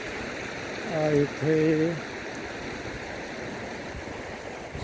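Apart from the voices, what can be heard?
small waterfall flowing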